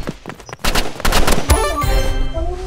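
Rapid gunfire from the Roblox game Rivals, a loud burst of overlapping shots that runs through the clip, dense and close, with no talking.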